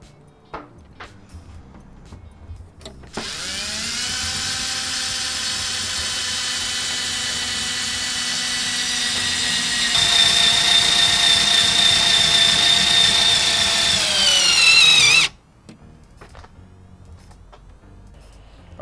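A power drill drives a screw into wood for an overlanding table build on a Land Rover Discovery 2, heard as a loud, steady motor whine lasting about twelve seconds that rises in strain near the end before stopping abruptly.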